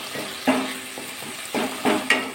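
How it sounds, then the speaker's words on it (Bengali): A metal spatula mashes softened tomatoes in a frying pan with oil and spices, giving a sizzling fry broken by several scraping, squelching strokes in an irregular rhythm, close and fairly loud. "খুন্তি দিয়ে"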